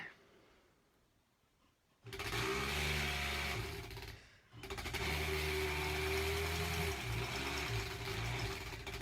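A sewing machine stitches a granny square quilt, running in two steady, loud whirring bursts of motor hum with a brief pause between them, close by, after a quiet start.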